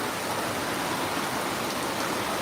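Heavy rain falls in a dense, steady hiss, close and continuous for the whole stretch, with no voices.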